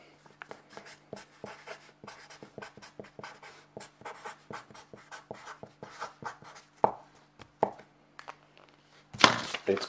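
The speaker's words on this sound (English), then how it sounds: "I'm gonna write it down" A pen scratches across paper in short, irregular strokes, quiet and close, with a few louder taps and a rustle near the end.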